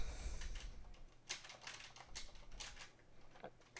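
Quiet, uneven keystrokes tap on a computer keyboard in short bursts over a low background hum, with no talking.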